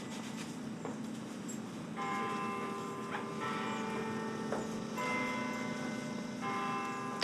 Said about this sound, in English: we're waiting on bells for the top of the hour